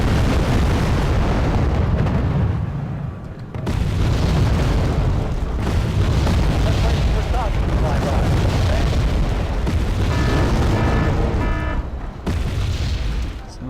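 An artillery barrage in the video game Wargame: AirLand Battle pounds the ground, heavy booming blasts rolling over one another in a loud, almost unbroken roar, with a voice talking over parts of it.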